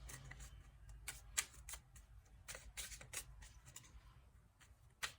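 Lenormand cards are handled and sorted into a pile, making soft, quiet riffling and sharp paper flicks and taps at irregular intervals.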